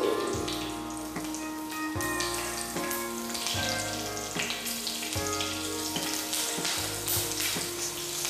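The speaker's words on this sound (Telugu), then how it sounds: "ప్యాన్ వేడెక్కిన తర్వాత కొద్దిగా ఆయిల్ వేడెక్కిన తర్వాత పచ్చిమిర్చి," Green chilies frying in hot oil in a pan give a loud, continuous sizzle and crackle that stays close and steady throughout, with no talking.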